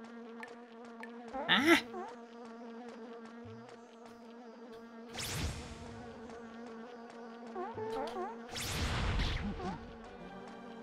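A buzzing bug enemy in the video game Alundra 2 drones with a wavering insect whine over looping game music, swelling in several loud bursts with a short exclamation from a player.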